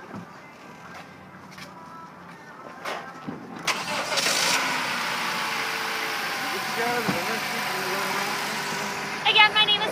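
A 2013 Honda Civic's engine cranks and catches with a burst, then settles into a steady idle heard close by, preceded by a few clicks and handling noises, with someone speaking before and during.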